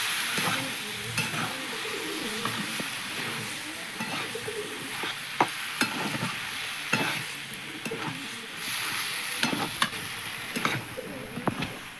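Mustard paste with garlic, ginger and green chili paste fries in a pan, giving a soft continuous sizzle broken by repeated scraping stirs of a spatula, close up and with no voices.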